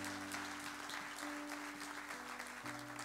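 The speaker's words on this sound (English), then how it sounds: "You ought to give the Lord a clap offering on that" Church congregation applauding as a clap offering during a worship sermon, steady sustained clapping with a low organ or keyboard drone underneath throughout.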